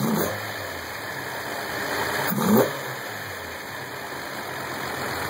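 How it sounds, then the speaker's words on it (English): A 1971 Datsun 240Z engine idles, then is pushed to accelerate, its steady running note swelling into a short, hesitant surge before settling back, heard close with no talking. "If I try to step on it too fast, it'll it hesitates and then it'll go."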